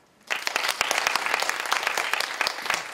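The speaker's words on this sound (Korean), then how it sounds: "큰 박수로 맞이해주세요" Audience applause breaks out abruptly after a brief silence to welcome a guest speaker at a university talk, a dense, lively patter of many hands clapping steadily at moderate loudness.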